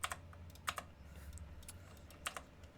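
Quiet typing on a computer keyboard, scattered light key clicks in small irregular bursts over a low steady hum, with no talking.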